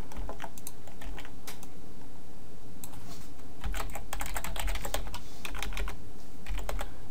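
Quick keystrokes rattle on a computer keyboard in uneven bursts as a password is entered while coding in PHP, close and clear with no voices.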